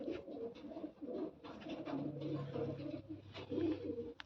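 A pair of pigeons, a white-eyed hen and a Cheena cock, coo softly in repeated low throaty phrases, close by and quiet, with faint background noise.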